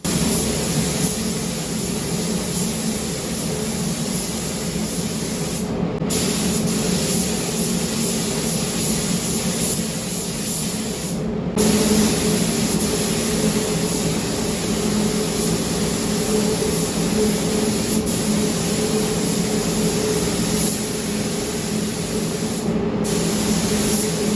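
Spray gun applying a second coat of lacquer to a Ford Escort's grille and mirrors, a loud steady hiss broken by three short pauses where the trigger is released.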